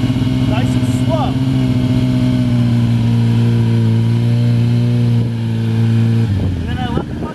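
A Yamaha R6 motorcycle engine holds a steady low drone at light throttle around 4,000 rpm, easing as the clutch is let out to pull away slowly, with the harmonic tone shifting near the end and a voice speaking over it.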